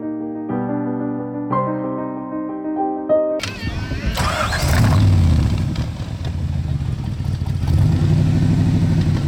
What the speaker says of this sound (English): Is it possible to hear how the car sounds?